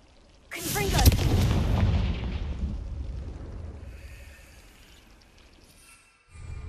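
A loud magical blast from the Confringo spell in Hogwarts Legacy erupts suddenly, a booming explosive burst that rumbles and fades over several seconds before a second swell begins at the end.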